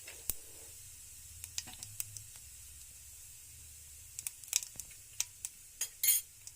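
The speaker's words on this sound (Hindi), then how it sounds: "घी गर्म होने के बाद अब हम इसमें लगभग ½ टेबल स्पून जीरा डालेंगे, थोड़ी सी हींग जो कि ऑप्शनल है" Cumin seeds and asafoetida dropped into hot ghee for dry daliya, a faint low sizzle under scattered light spoon scrapes and taps against the pan, alone with no voices.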